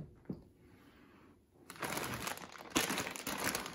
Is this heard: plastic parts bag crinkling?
yes